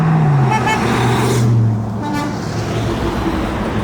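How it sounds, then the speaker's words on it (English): A car horn honks in two long blasts at a pedestrian walking beside passing road traffic, fairly loud and close. "When people honk as I'm walking"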